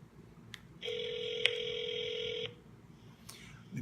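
A telephone sounds a steady electronic tone for under two seconds, loud and close, with a brief click partway through and faint background noise before and after.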